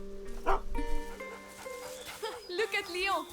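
A dog in the video game A Plague Tale: Innocence gives short yips and whimpering sounds while it is petted, with a voice talking over and between them.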